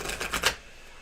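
A tarot card deck being shuffled, giving a quick run of papery riffling bursts for about half a second before falling quiet.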